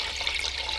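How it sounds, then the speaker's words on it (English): Water pours steadily into a glass sun tea jar with filters, a continuous close splashing rush, no voices. "you just splash some water on the filters while you're filling it"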